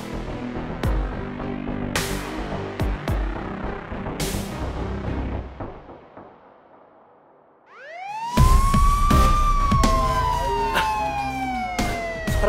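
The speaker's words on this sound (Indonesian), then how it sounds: "Suara sirine polisi." A police car siren cuts in after a stretch of sharp knocks and thuds, rising into a loud, close wail that holds and slowly sweeps down amid continuing clatter.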